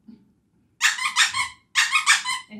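A plush raccoon dog toy with three squeakers, squeezed twice in quick bursts, each giving a run of rapid, bright, close squeaks, with a faint low murmur at the start and end.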